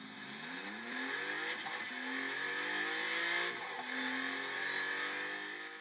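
Maserati MC20 engine revving hard and continuously, a loud near roar with rising and falling pitch sweeps as the revs climb, dip and climb again, alone with no talk.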